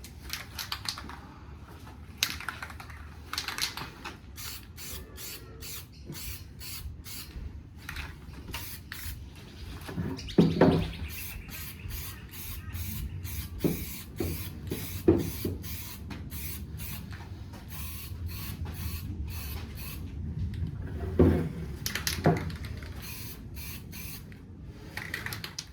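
Undercoat and base coat spray-painted onto parts of a SYM VS150 scooter under restoration, rapid pulsing bursts of aerosol hiss with short pauses and occasional handling clatter, no speech.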